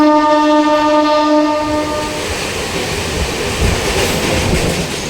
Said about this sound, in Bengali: আমাদের ট্রেন ফাইনালি ঢুকছে রামপুরহাট